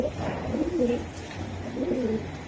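A Hammer breed pigeon coos close by in a few soft, low, rolling phrases over quiet background noise.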